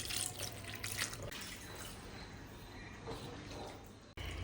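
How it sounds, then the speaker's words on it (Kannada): Water is poured over fresh paneer and stirred in to rinse off vinegar, giving a continuous close splashing and trickling sound. "ಈಗ ಇದ್ರ ಮೇಲೆ ನೀರನ್ನ ಹಾಕ್ಕೊಳ್ಳೋಣ"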